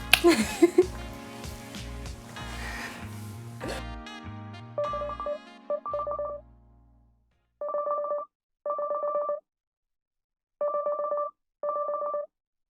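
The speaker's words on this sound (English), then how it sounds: "Ramona, I can't pick the phone up." A telephone rings four times in regular paired bursts with silent gaps between them, heard clearly after a stretch of louder mixed sound fades out before a voicemail greeting.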